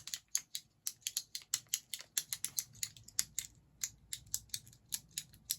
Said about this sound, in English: They have another version of this little clicker keychain.